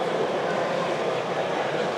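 An N scale model train runs along a model railway show layout, a steady low rumble and faint rolling clatter set against the constant hum of a busy exhibition hall.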